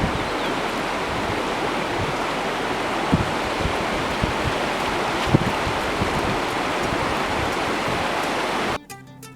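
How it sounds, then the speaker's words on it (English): The swift-flowing, boulder-filled Maclaren River, fed by glacier melt, gives a loud, dense and steady rushing roar close by, with faint knocks inside the flow before it cuts off abruptly near the end. "We took a side road to Maclaren River, swift-flowing, filled with boulders, depth unknown"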